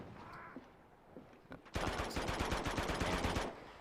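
Automatic M4 rifle fire in Uncharted 2, a fast continuous burst of rapid shots starting midway and lasting about two seconds, loud over faint game ambience and a few earlier scattered pops.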